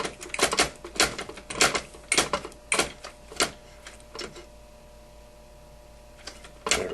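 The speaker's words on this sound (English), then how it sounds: "screw this in until it's tight." Screw being turned into a nut on an HPI Baja RC car's A-arm, a run of short rhythmic clicking and ratcheting bursts, close, with a pause before a final click, no talk.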